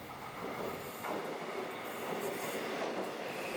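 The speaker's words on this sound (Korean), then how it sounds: "반대편 승강장으로 다시 연천 가는 열차가 들어옵니다" A commuter train on the Korean rail line toward Yeoncheon pulls into the opposite platform, a steady close rumble of wheels and carriages with faint rail squeal and no talk.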